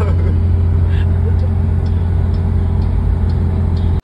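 A Morris Minor car drives along, its engine giving a loud, steady low hum with a constant droning tone inside the cabin, cutting off abruptly at the end.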